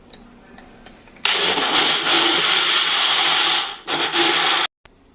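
A kitchen blender whirs loudly as it blends carrot with honey and orange, running steadily for a few seconds, briefly dipping, then surging again before cutting off abruptly.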